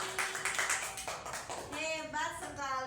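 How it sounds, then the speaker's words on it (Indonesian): Classroom clapping for a student named Reni during a science lesson, a short burst of rhythmic hand claps that quickly gives way to someone talking over the room. "Tepuk tangan untuk Reni."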